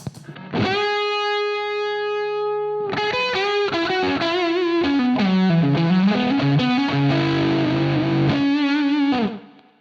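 Electric guitar through a Uni-Vibe with its preamp on, a throbbing, swirling modulation effect: one chord rings out, then a gritty, overdriven melodic phrase plays on, loud and close.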